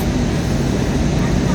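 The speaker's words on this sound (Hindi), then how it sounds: "हवाई जहाज़ नीचे की तरफ हो रहा है, उस हिसाब से नीचे का व्यू थोड़ा और ज़्यादा क्लियर हो गया है।" Airplane cabin during descent over Vietnam, a steady dense low roar of engines and airflow filling the whole stretch at constant loudness.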